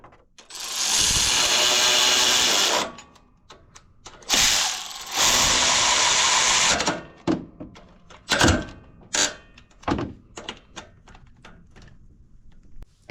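A ratchet tightens the starter bolts on a Toro Timecutter mower with quick clicking bursts, some long and sustained and others short and spaced apart, close to the listener and without speech.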